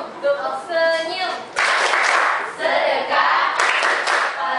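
Schoolchildren in a classroom do the tepuk senyum clap chant: rhythmic bursts of group clapping interleaved with sung chanting voices, loud and close.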